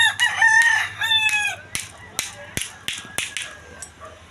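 Rooster crows loudly several times up close while chickens cluck in a backyard chicken breeding pen, followed by sharp knocking sounds.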